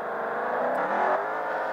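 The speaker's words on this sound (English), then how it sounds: "let's see how does it work with this revving engine" Engine of a Mercedes AMG taxi in the driving game Taxi Sim 2020, a steady mid-pitched drone that rises and swells slightly partway through, close and continuous with no talk.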